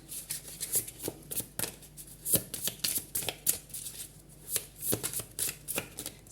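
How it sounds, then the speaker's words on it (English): Tarot cards are shuffled up close in repeated quick riffles and slides, a steady pattern of soft papery bursts with no voices. "let me shuffle"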